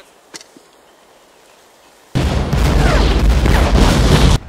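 Artillery fire in the video game Hell Let Loose: after near-silence with a couple of faint distant pops, a loud, sustained roaring blast rumbles for about two seconds before cutting off.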